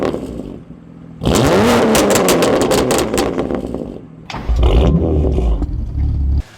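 A BMW S55 engine revs hard through ARM resonated catless downpipes, an Active Autowerke equal-length mid-pipe and a Dynon stainless steel rear section, giving two loud, close rising roars separated by a quieter idle.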